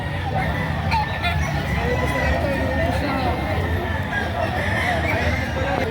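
Chickens and roosters crowd a busy poultry market, with overlapping clucks and crowing in a dense, continuous din and a murmur of people talking underneath.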